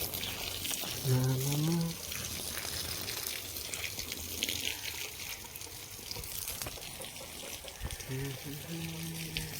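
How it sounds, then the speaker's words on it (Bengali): Water splashing and trickling over a small shrine as it is washed, a steady wet wash running throughout while a voice speaks briefly over it near the start and end. "মন্দিরটা একটু ধুয়ে দিই এদিকের থেকে।"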